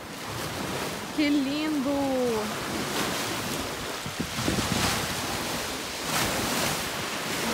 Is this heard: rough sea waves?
yes